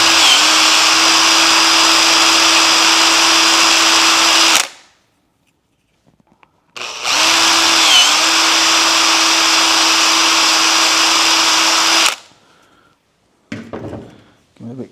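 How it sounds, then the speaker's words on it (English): A power drill bores out holes in 3D printed parts in two sustained, loud runs of about four and five seconds each, with a steady motor whine. Brief silence separates the runs, and a few clunks of handling follow the second. "run the drill through those as well"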